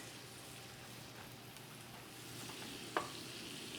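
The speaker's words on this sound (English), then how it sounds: "Then we're going to stir those shallots around." Shallots frying in a pan with salt and pepper while being stirred, a steady close sizzle throughout with a light scrape of the stirring utensil near the end.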